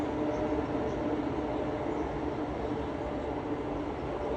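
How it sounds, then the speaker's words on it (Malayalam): A steady, continuous rumble and rattle of a train crossing a railway bridge at Kadalundi, constant and fairly loud throughout with no voices. "ആ റെയിൽവേ പാലത്ത് കൂടി ട്രെയിൻ വരുന്ന അതിമനോഹര കാഴ്ച നമുക്കിവിടെ കാണാം"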